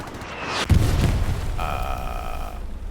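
A heavy video game explosion bursts out on Utah Beach, followed by rumbling and a faint high tonal whine, like distant artillery in a battle scene.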